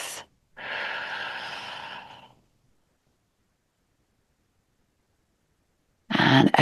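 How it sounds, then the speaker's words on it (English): A slow, steady Shitali breath drawn in through the mouth during a cooling yin yoga practice, a soft airy hiss lasting under two seconds, followed by silence before another breath sound. "take one more of those Shitali breaths, breathing in through the mouth"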